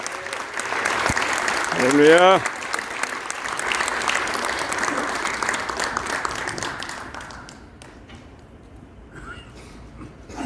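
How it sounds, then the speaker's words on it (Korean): A church congregation applauds as a pastor comes forward at a New Year worship service, sustained clapping under a speaking voice that thins out into near quiet before a single voice speaks. "박수로 맞이하겠습니다."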